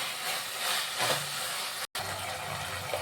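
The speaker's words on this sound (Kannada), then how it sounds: "ತೊಳೆದಿಟ್ಕೊಂಡಿರೋ ಪುದೀನ ಹಾಕೋಣ. ಅದು ಸ್ವಲ್ಪ ಚೆನ್ನಾಗಿ ಫ್ರೈ ಮಾಡ್ಕೊಳ್ಳೋಣ." Washed mint leaves, with coriander leaves, frying in a pan for a simple mushroom biryani, giving a steady hissing, steamy sizzle with a brief dropout partway through, no voices.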